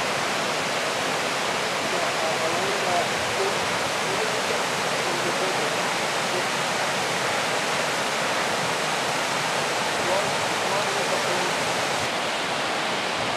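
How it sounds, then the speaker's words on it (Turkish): Matarani waterfall near a village in Tanzania roars as a dense, steady broadband rush, loud and constant throughout with no voices. "şu an gördüğünüz Matarani şelalesindeyiz"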